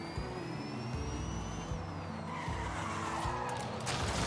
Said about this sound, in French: bien sûr, ça dérape un petit peu